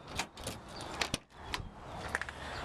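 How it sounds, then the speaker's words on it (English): Car keys for a 1987 Toyota Hiace van jangle and clink close by in a quiet space, with a few bright metallic rattles and small knocks spread across a couple of seconds. "so it looks like we've got two keys"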